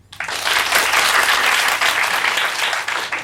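A studio audience bursts into sudden, loud applause as a show of hands for a vote, a thick, steady roar of clapping held for about three seconds that eases slightly toward the end.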